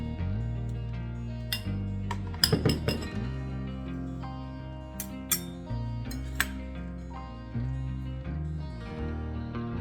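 Utensils clink against a bowl while cabbage salad is tossed with sauce, a steady run of light metallic taps and scrapes with a few sharper clinks, close and alone.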